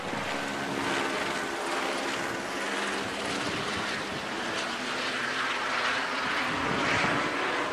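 A steady, broad roar of a helicopter passing overhead, moderately distant, with a constant wash of rotor and engine noise and no talking.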